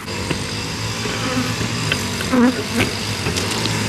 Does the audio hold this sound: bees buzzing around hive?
yes